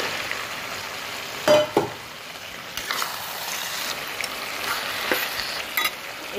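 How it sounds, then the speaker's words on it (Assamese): Meat goes into taro pieces frying in a pan, and a steady oily sizzle fills the air while a few sharp clatters and scrapes of stirring cut through. "কচুখিনি প্ৰায় ফ্ৰাই হৈ গৈছে এতিয়া মই ইয়াত মাংসখিনি দি"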